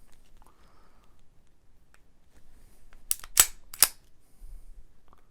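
A Beretta M1951 pistol's cross bolt safety clicks, a few sharp metallic snaps close together near the middle, set against a quiet room with faint handling noise.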